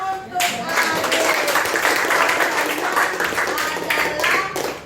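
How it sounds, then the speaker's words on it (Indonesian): Schoolchildren in a classroom clapping for a classmate after a correct quiz answer, a dense, fairly loud burst of group applause lasting several seconds, nearby. "Ya, tepuk tangan untuk Arif."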